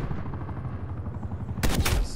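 Rapid automatic gunfire in a first-person shooter video game, a dense loud burst of rounds that ends in a sharper, brighter crack of impacts.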